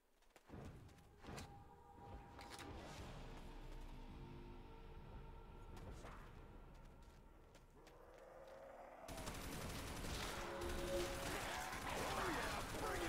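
Gunfire in World at War Zombies, a steady stream of loud shots and game effects running through the whole stretch, growing denser and harsher toward the end.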